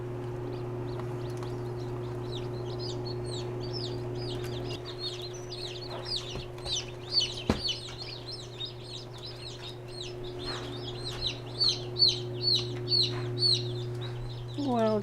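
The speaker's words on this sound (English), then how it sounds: "We're opening up the incubator now. Let's see what the little chickies are looking like." Baby chicks in an incubator give high, rapid peeping that rises in short bursts over a steady low hum from the incubator, fairly faint and close.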